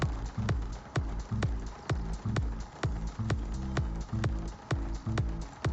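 Horse hooves gallop in the ZED Run racing video game, a fast, steady clip-clop rhythm of sharp, even thuds that repeats evenly throughout, loud and close with no talk over it.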